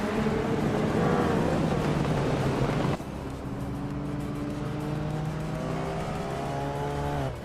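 Race cars, among them a 1985 Lancia Delta S4 Stradale, roar continuously with rising and falling engine tones, a loud pass fading at the midpoint into another car's steady, climbing engine note.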